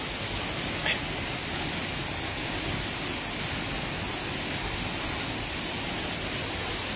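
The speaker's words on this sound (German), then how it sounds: "da oben am Wildensteiner Wasserfall" Steady rushing roar of the Wildensteiner Wasserfall, a waterfall heard up close as a dense, unbroken wash of falling water with no voices over it.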